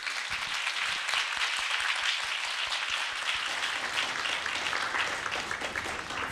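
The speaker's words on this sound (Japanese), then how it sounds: "Give the Lord a clap offering" Church congregation gives a steady round of applause as an offering to the Lord, many hands clapping densely and evenly for several seconds, with a few sharper nearby claps early on.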